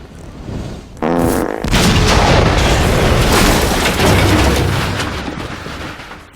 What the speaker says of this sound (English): A Zippo lighter is tossed into their enclosure, igniting the gas and resulting in a comical explosion